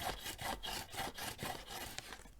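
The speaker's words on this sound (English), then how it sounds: "I'm just going to burnish with my bone folder." A bone folder burnishes the folded edges and corners of a handmade paper gift box in quick, even rubbing strokes about four per second, close and soft, with no talk.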